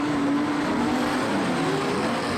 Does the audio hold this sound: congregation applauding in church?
no